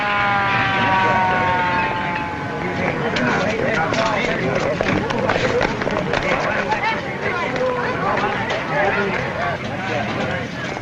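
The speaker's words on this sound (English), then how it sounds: "The ambulance, of course." An ambulance siren in a 1939 film, a loud wailing tone rising and falling beneath a busy crowd scene with overlapping voices and commotion.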